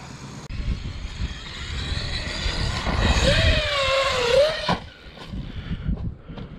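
A Traxxas Sledge RC truck with a 15-tooth pinion, its electric motor whining and wavering in pitch over a rough, rumbling drive noise, rising toward the middle before cutting off abruptly.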